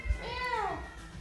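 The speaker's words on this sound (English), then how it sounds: "We got a noisy cat." A noisy house cat lets out a single drawn-out meow that rises then falls, close and clear over a faint low background hum.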